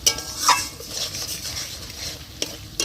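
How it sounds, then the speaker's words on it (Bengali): Spice paste for a Bengali fish curry frying in a pan and stirred, with soft sizzling under scraping utensil strokes and a few sharper clinks of metal on the pan, close and brief, no talking. "তো মশলাটা প্রায় ভাজা হয়ে এসছে।"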